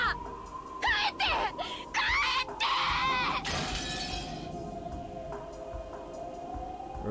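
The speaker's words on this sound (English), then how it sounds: "The teacup was knocked over from the force of her standing up." A teacup knocked over in the Umineko visual novel game gives a rapid run of sharp clattering, shattering bursts over a sustained background music tone, then fades to the lingering tone alone.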